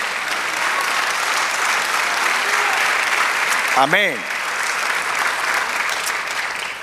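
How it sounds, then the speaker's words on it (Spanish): A church congregation claps in sustained, even applause, loud and close, while someone briefly speaks over it partway through. "dale un aplauso al Señor"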